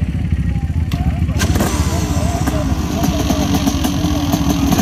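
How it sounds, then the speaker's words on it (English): A two-stroke motocross bike engine, from a field of big 500cc machines including a Honda CR500 and KTMs, roars loud and close with a rough, continuous note. Voices carry faintly underneath. "Nothing but two stroke power."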